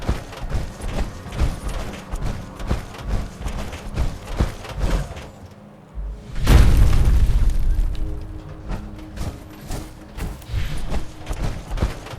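A cryo grenade detonates in Fallout 76, a sudden deep low boom around the middle that swells and decays over a couple of seconds, set against a steady bed of rhythmic game ambience and mechanical noise.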